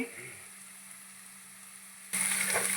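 Sliced onions and green chilli pieces frying in hot oil in a pan, a soft steady sizzle that jumps suddenly louder near the end, fairly close and with no talk over it.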